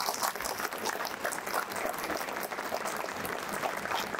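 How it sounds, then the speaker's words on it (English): A crowd of hospital staff applauds at a celebration of the hospital's 78 years, steady dense clapping sustained throughout with no voices standing out. "Can I have a round of applause for all of us?"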